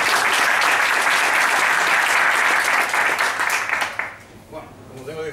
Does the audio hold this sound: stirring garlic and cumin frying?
no